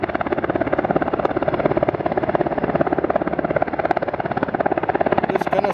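Coast Guard helicopter practicing over an Alaskan muskeg near Sitka, its rotor chop a steady, loud, continuous pulsing drone that holds without break throughout.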